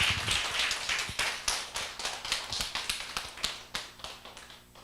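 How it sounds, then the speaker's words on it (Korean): A church congregation at a Friday testimony worship service claps together in a steady, rhythmic beat to welcome someone forward, the close crisp claps carrying on for several seconds. "크게 우리 박수로 환영하겠습니다."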